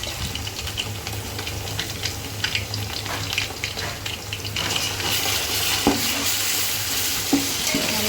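Ginger garlic paste fries for bagara rice in a hot pan, a continuous close sizzle with stirring scrapes that grows slightly louder partway through, with no voices.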